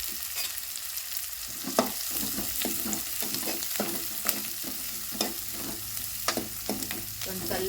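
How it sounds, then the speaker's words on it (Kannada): Finely chopped onion and chilies fry in a pan with a soft, steady sizzle, punctuated by repeated sharp scrapes and taps of a spatula at a fairly regular pace; no one speaks. "ಸಣ್ಣ ಕಟ್ ಮಾಡಿದ ಉಳ್ಳಾಗಡ್ಡಿ ಎರಡು ಹಾಕ್ತೀನಿ ರೀ ಈಗ ಉಳ್ಳಾಗಡ್ಡಿ ಫ್ರೈ ರೀ"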